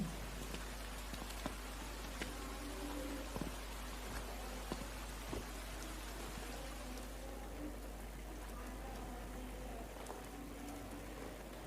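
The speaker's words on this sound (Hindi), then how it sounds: "बारिश हो रही है, लगता है ये काफी देर तक नहीं रुकेगी।" Steady rain falls continuously on surfaces with scattered distinct drop taps over a low constant rumble, fairly quiet throughout with no voices.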